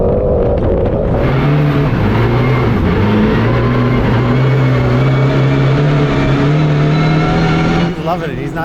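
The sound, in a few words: Mitsubishi Evo 9 rally car driving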